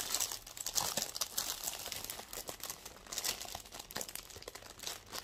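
Plastic packaging of a scrapbooking kit crinkles and crackles close up as it is opened, a steady run of dense rustling bursts with no talking.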